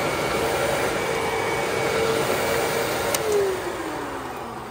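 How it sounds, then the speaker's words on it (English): Vacuum cleaner tested at a Goodwill store, running steadily with a loud broadband whoosh and motor hum throughout, a brief pitch drop near the end as it winds down slightly. "Vacuum actually works pretty good."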